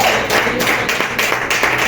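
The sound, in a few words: congregation clapping in praise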